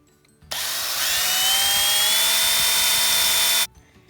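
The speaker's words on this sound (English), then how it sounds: "Definitely want to pull it out periodically and clean the flutes of the drill bit." A power drill whines steadily for about three seconds, its pitch rising slightly as the bit bores into a pen blank, then stops abruptly.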